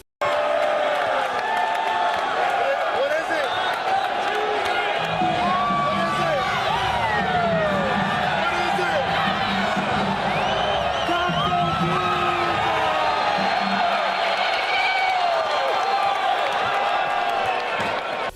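A basketball arena crowd at a game roars and whoops for Taco Tuesday, sustained loud cheering with a swelling chant, voices mixed throughout.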